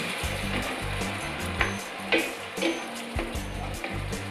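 Tinned cherry tomatoes hit a very hot pan for an amatriciana sauce, bursting into a loud, close sizzle with crackles and a few sharp pops and stirring scrapes, no voices.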